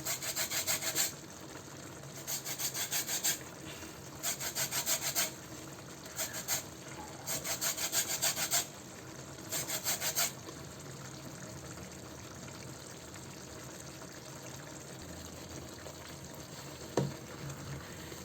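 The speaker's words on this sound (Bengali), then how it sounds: "লেবুর খোসাটাকে আমি জাস্ট একটু ঘষে দিয়ে দিব" Lemon peel is grated for chicken kabsa, with repeated short scraping bursts close by, each lasting about a second, before a long stretch of quieter background hiss.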